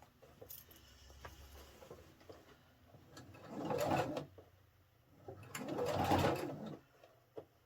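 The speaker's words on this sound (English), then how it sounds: "Let me get my sew over something thick" A sewing machine stitching a thick tote computer bag runs in two sustained bursts of rapid mechanical whirring, close and fairly quiet, with small handling clicks between runs and no talk.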